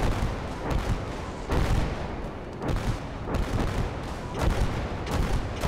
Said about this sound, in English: Oh, there's the Katusha.